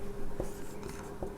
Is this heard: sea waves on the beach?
no